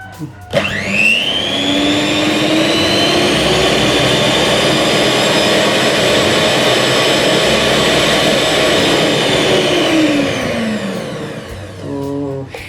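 A Miyako SM-625 hand mixer whirs up to its high speed setting, holding a loud, piercing motor whine for about ten seconds before winding down, heard up close.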